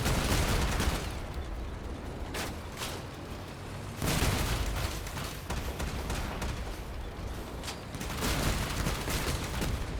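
Vehicle-mounted weapons in the Crossout video game fire in dense, rapid bursts of gunfire and booms, fairly quiet overall, with sharp louder volleys around four and eight seconds.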